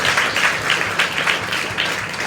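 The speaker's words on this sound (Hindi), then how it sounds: "तालियां तो बजाओ बच्चे लोग" Children in a church gathering clapping together, a dense, fairly loud burst of applause with an uneven rhythm that continues steadily through the short stretch.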